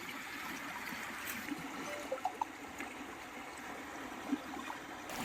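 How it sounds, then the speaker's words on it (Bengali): A stream runs over rocks at a campsite and past the feet of people sitting beside it, giving a steady, close trickling and rushing wash with a few small splashes and gurgles and no clear talk. "আমাদের দেখো পায়ের গোড়া দিয়ে জল যাচ্ছে"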